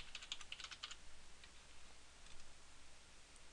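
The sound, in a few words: typing a password on a computer keyboard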